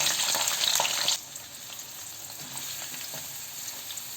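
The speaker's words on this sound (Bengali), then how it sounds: "পেঁয়াজ থেকে আমি হালকা একটু ভেজে নেব" Chopped onion frying in oil with bay leaf, star anise, cinnamon, cardamom and cloves, a bright close sizzle that drops sharply after about a second to a soft, steady hiss.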